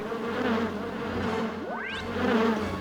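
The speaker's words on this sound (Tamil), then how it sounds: "தேனீக்கள் கோவமா இருக்குடா" Angry cartoon bees buzzing in a steady, close drone, with one insect's whine sweeping upward in pitch as it zips past, then the swarm hum continuing.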